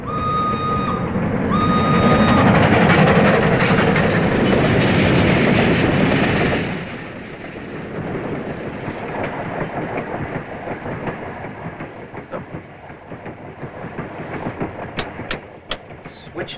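European passenger train rolling along the tracks, a loud steady rumble with rhythmic clickety-clack from the wheels that eases slightly partway through, continuous and close as from inside a carriage.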